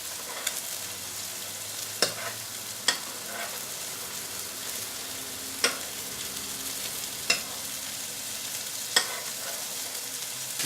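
Steak fries in a pan while being basted with butter, a steady close sizzle with a spoon clinking against the pan every second or two, no talking.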